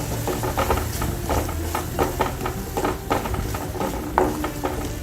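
Turmeric and chilli powder sauté in hot oil in a pan for a Kerala-style prawn roast, a steady close sizzle and hiss with rhythmic stirring scrapes throughout, no talking.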